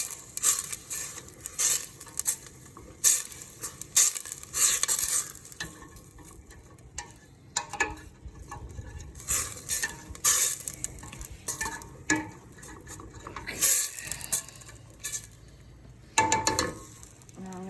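Food sizzles in a pan while being stirred, with irregular bursts of spoon scraping and clanking against the pan over a soft frying hiss, close up and without talk.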